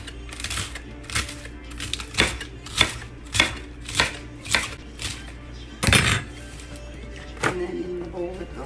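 A knife cuts the browned tops off lettuce, giving crisp chopping thuds in an irregular rhythm close by.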